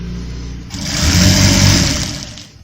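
A sewing machine runs steadily, stitching a seam along the sleeve of a kali-style kurta, starting softly and swelling into a loud, continuous whir that tapers off near the end, with no talking.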